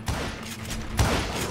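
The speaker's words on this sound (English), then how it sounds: "Roger appeared with his terrible double-barrel shotgun." Double-barrel shotgun blasts in the Western video game Call of Juarez: Gunslinger, two dense, loud booming shots about a second apart amid continuous game noise.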